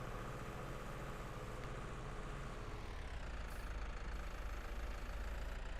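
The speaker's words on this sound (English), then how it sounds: "Nippy little tractor, nifty." A tractor engine in Farming Simulator 19, a nippy four-wheel-steer model, runs steadily throughout with a continuous low rumble and even mid-range drone, no voices over it.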